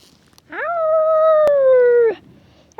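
A voice imitates a wolf's howl in one sustained, clear rising-then-steady note of about a second and a half, close and loud, with quiet before and after.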